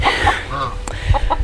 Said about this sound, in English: Oh no, this chicken's spazzing.